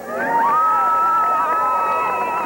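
Crowd cheering along an Olympic torch relay route in a shopping mall as a runner sets off with the flame, a steady, loud wash of voices and whoops with rising shouts and no clear speech.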